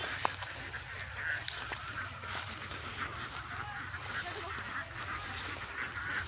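Ducks quack and honk at a distance in an outdoor rural setting, scattered calls over a constant low rumble and background noise, fairly faint, with no clear talk.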